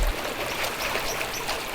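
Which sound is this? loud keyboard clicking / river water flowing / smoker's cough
river water flowing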